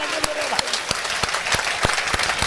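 Audience clapping at a Hindi kavi sammelan comedy poetry recital, sustained applause from a crowd with sharp individual claps standing out, fairly loud throughout.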